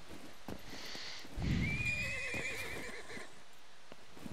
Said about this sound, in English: When can we ride those horses, man?